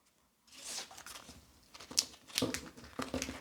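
Crinkly rustling and crunching of turmeric leaves being handled and rolled up, with a few sharper crackles, close up and fairly quiet.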